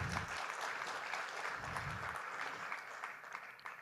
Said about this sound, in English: So a round of applause for the presenters.